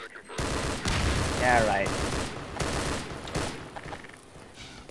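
Combine soldiers fire guns in Half-Life 2, bursts of gunfire and explosive cracks in repeated volleys, with a voice talking briefly over the combat.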